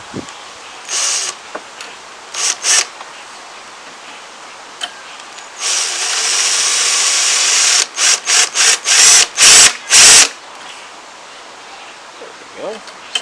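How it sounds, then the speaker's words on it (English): A power drill boring a hole in a push mower whirs in a long steady run, then in several short, sharp bursts with brief pauses between, close by and loud. "I'm just going to take the drill. And attempt to drill a hole right here."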